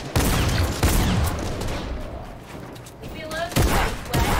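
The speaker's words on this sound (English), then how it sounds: "That's the one that I shotgun in the face." Shotgun blasts in Fortnite, several loud sharp reports spaced through a few seconds, close and punchy amid other game noise.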